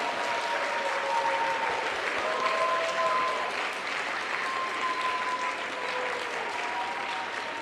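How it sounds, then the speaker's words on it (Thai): Loud, sustained applause from a gathered crowd celebrating Si Thep ancient city becoming a World Heritage site, dense steady clapping with a few faint voices and tones underneath. "ร่วมกันแสดงความยินดี โดยช่วยกันปรบมือ ให้ดังนะครับเป็นการเฉลิมฉลองครับ"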